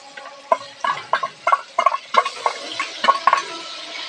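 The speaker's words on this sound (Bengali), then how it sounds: "এবার দেখো এখানে কিন্তু আমি বেশ কয়েকটা কাঁচা পাকা আর একটু আদা বেটে নিয়েছি, সেইটা দিয়ে দেবো।" Ginger and green chili paste frying with tomatoes in a pan, stirred with repeated scraping strokes that come in an irregular rhythm over a soft sizzle, close and fairly loud with no talking.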